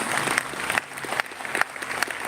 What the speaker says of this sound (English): Let's give another huge round of applause